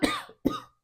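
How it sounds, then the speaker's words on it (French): Two close, sharp coughs from one person, each a quick burst that fades out, spaced under half a second apart, with no speech. "J'espère que je ne vais pas tousser tout le long."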